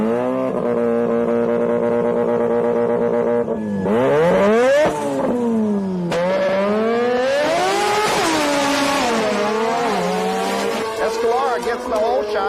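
A Pro Outlaw class drag race car runs loud and close, its engine climbing in pitch through gear changes, with race commentary talking over it.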